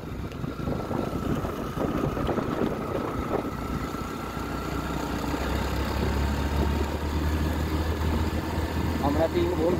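Motorbikes climb a winding uphill road in the hills of Odisha near Similipal National Park. A steady, rumbling engine drone holds throughout, mixed with wind noise and faint voices.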